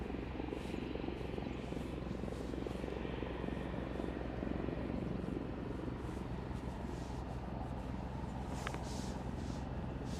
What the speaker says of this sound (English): As the helicopter goes into the compound, it sounds to me like there's another one coming.